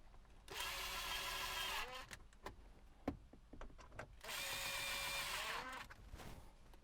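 A power drill whirs in two sustained bursts while driving screws back in during a phone mount installation in a BMW F30 interior, with clicks and rattles of handling between bursts, close and moderately loud.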